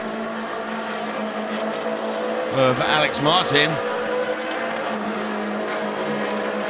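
Race cars in the Trofeo Pirelli series roar past at Monza, a brief loud burst of engine noise sweeping by at close range beneath steady commentary.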